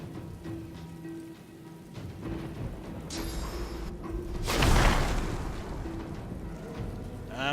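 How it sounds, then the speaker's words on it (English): In-game rain spell from Divinity: Original Sin 2 fills the scene with steady patter and a swelling whoosh midway, over a low ambient game bed with faint musical tones. "Rain."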